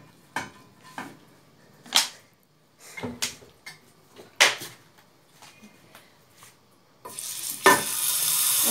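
Oil on a grill pan heats for cooking burgers, with scattered clinks, taps and utensil knocks, then a bright steady sizzle rising near the end, close and moderately loud with no talking.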